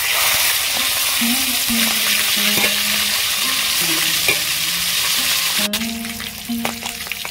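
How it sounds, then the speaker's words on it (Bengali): Fish heads frying to a deep red in hot oil, with a constant close sizzle and repeated stirring and turning clatters from a utensil in the pan, no talking. "মাছের মাথাগুলো আমি লাল লাল করে ভেজে নিয়েছি"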